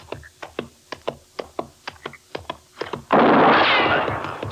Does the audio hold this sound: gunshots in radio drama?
yes